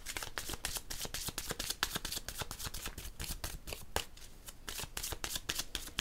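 Tarot cards are shuffled and drawn close up, a rapid steady run of crisp riffling snaps and flicks with no talking.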